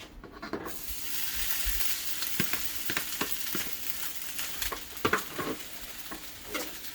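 Pre-cooked rice being stir-fried in a Joyce Chen wok, with a steady close sizzle and repeated scraping and tossing strokes from a shovel-style spatula, no talk.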